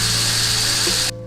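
Impact or power tool running steadily on a caliper bolt of a 2016 Honda Odyssey during a brake job, a loud continuous whir lasting about a second before cutting off abruptly.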